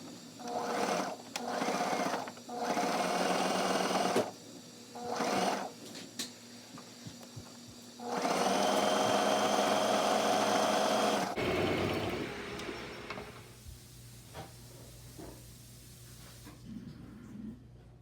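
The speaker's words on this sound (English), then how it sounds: "Now I sew them into the side seams and then finish sewing the skirt side seams the rest of the way." A sewing machine stitches the side seams of a summer dress skirt in several loud bursts of running, with short pauses between them and a long steady run in the middle before the motor stops.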